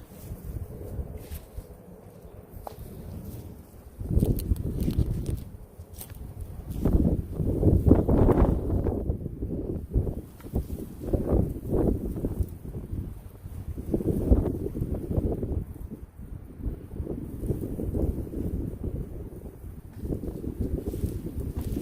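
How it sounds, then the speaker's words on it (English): Gusty outdoor wind buffets the microphone in uneven low rumbling bursts, rising and falling for about twenty seconds with no talking, in a garden during raspberry transplanting. "Starting to get windy, guys."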